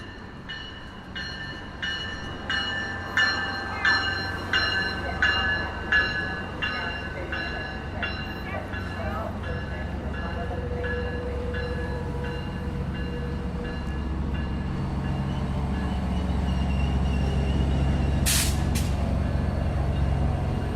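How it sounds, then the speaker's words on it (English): A San Joaquins passenger train pulls into a station on the Bakersfield route with a steady low rumble, rhythmic clacking of wheels over rail joints that slows as it arrives, and a short high screech near the end. "Train for Bakersfield just arriving."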